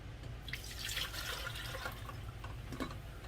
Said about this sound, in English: I'm going to do 4 cups of vinegar. Put that into my pot.